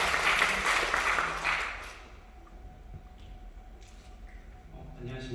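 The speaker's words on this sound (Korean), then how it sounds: "박수로 맞아주시기 바랍니다." Audience applause at a medical conference on rare childhood diseases, a burst of clapping that fades out within two seconds, leaving quiet room tone with faint shuffles and a voice beginning to speak near the end.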